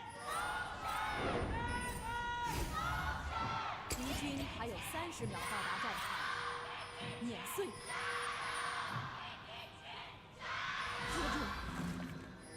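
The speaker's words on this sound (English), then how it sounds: "You can hear the fans are cheering so very loud for this" Fans at an LPL esports arena match between Snake Esports and Edward Gaming cheer and yell in loud waves, with a commentator talking over the noise.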